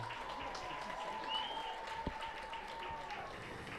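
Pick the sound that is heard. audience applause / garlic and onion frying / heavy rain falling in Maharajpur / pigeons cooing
audience applause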